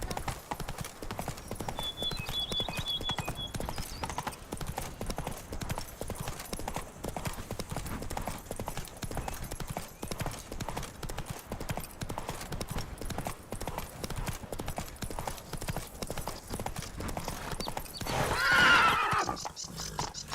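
Horse Roach's hooves clip-clopping steadily while ridden in The Witcher 3, a continuous trotting rhythm, with a whinny near the end and faint voices at times.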